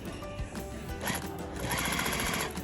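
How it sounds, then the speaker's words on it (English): A sewing machine stitches quilt binding, running at steady speed with a fast, even mechanical whir and clatter, close and continuous throughout. "I started stitching."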